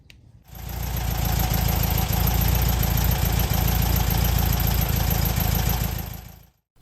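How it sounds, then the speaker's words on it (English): A 1968 VW Beetle air-cooled flat-four engine runs steadily at idle while warming up, a loud, continuous close-up drone with even low rumble and a high whine, starting abruptly and cutting off near the end. "you got to heat the engine up to get it to operating temperature when you're going to do a compression test"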